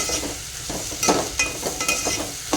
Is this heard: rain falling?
no